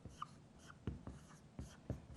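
Someone writes a sentence by hand, and the pen or pencil makes soft, close scratches with a few sharper taps as words are formed. Quiet and brief, with no voices.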